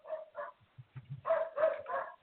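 Several dogs bark in a loose string of short yaps, a couple of quick barks, some low grunting sounds, then a louder burst of three barks close to the microphone, with no speech.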